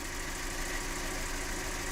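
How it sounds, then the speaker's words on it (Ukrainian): A Skoda A5 car engine idles with a steady, low, even hum, quiet and unchanging throughout. "По двигуну працює тихенько, рівненько"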